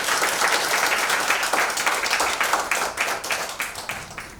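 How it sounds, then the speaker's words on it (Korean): A church lecture audience claps to welcome a speaker, brisk and lively at first and then thinning slightly, close and fairly loud with no one talking. "우리 박수로 맞이하겠습니다."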